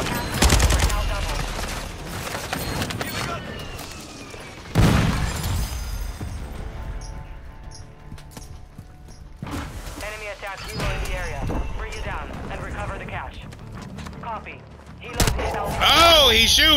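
Call of Duty: Modern Warfare II gunfire, loud bursts of automatic shots and heavy impacts in dense clusters, mixed with game sound effects and excited player voices talking over the action.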